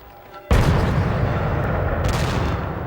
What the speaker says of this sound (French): les Parisiens peuvent entendre des salves de canon tirées en signe d'allégresse